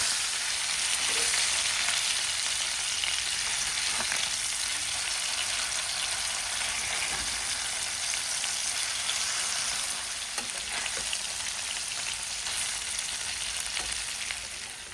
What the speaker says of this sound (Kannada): ಇದನ್ನು ಮೀಡಿಯಂ ಫ್ಲೇಮ್ನಲ್ಲಿಟ್ಟು ಫ್ರೈ ಮಾಡಿಕೊಳ್ಳಿ.